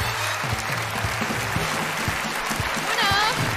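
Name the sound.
audience applause welcoming performers on a comedy show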